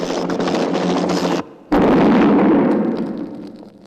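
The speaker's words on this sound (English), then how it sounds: "I guess stock footage of an explosion was cheaper than blowing up a model helicopter." A stock-footage explosion in a low-budget action film, standing in for a helicopter blowing up, follows a burst of loud noise and a brief drop. A heavy, close blast then rumbles and slowly fades.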